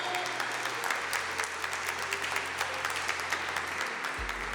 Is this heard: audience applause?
yes